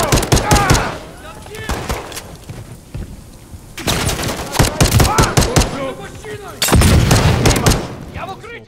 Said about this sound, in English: Pistol kind of strong.